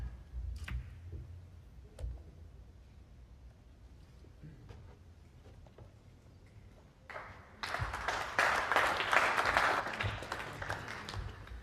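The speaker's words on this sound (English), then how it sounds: "Applause" Spectators at a pool match, Omar AlShaheen versus Van den Berg, break into applause after a quiet stretch of faint clicks and low murmur, the clapping swelling loudly and continuing for several seconds.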